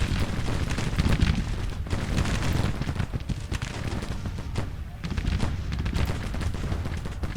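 Civil War infantry gunfire from the Grand Tactician strategy game: dense, continuous crackling volleys of musketry with deep rumbling booms underneath, loud and sustained throughout with brief lulls.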